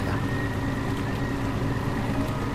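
Motorboat engine in the video game Phantasmat, a constant loud droning rumble with water wash, steady and unbroken throughout.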